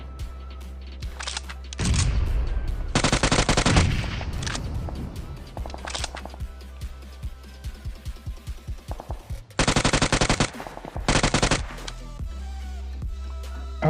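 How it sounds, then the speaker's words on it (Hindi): Repeated bursts of rapid automatic gunfire, loud and close, with single shots and short pauses between volleys, in a battle scene in the game BGMI. "और कौन गोली चला रहा है?"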